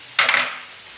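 Whole spices such as cloves and coriander seeds tipped into a hot pan: a sudden clatter and burst of hissing that quickly settles into a fading sizzle, all within about a second.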